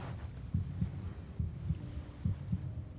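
A video game heartbeat thumps low and steady in paired lub-dub beats, three double pulses in a row over a quiet ambient hum.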